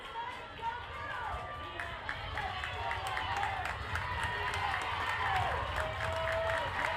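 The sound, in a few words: fans from both sides cheering at softball game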